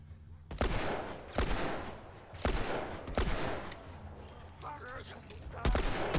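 Joel's gunfire in The Last of Us cracks out as about six loud, separate shots, each with a short echoing tail, spaced unevenly with quieter gaps between them.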